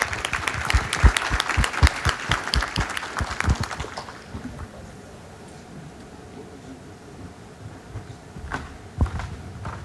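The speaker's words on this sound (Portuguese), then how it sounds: "Uma salva de palmas." Applause from the audience at a Brazilian real estate registrars' conference, a burst of brisk clapping for about four seconds that then fades to a murmuring hall with a few scattered claps.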